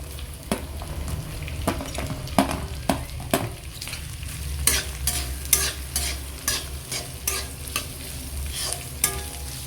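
Chopped onions and green chilli fry in hot oil for a pork fry, a constant sizzle under loud, irregular scrapes and clacks of a spoon stirring against the pan, close and with no voices.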